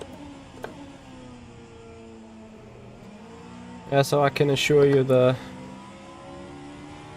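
A Vanwall Hypercar engine drones in rFactor 2 at Road America, a steady tonal hum with falling pitch running beneath someone talking throughout.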